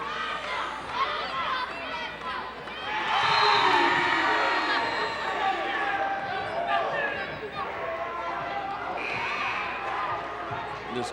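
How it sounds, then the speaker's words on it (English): A girls' varsity high school basketball crowd on senior night cheers in the closing minutes, a noisy swell of shouts and whoops that peaks early, then settles into chatter with ball bounces and occasional calls. "This crowd getting hyped in the last 4 minutes of senior night."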